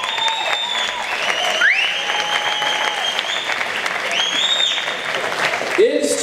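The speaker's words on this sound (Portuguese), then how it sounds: "Você pode gritar, você pode aplaudir" Teenage audience at a youth camp applauding and shouting, sustained clapping with crowd noise and whistle-like tones over it, fairly loud and steady throughout.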